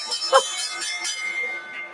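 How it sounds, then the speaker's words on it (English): A stock exchange opening bell rings with one bright strike near the start, its tone fading beneath a steady crowd murmur and talk on a trading floor. "let's get the opening bell here"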